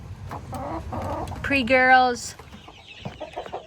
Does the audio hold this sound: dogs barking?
no